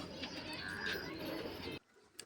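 Parava pigeons coo in a soft, continuous murmur with a dense background of cooing, cutting off abruptly near the end to near quiet.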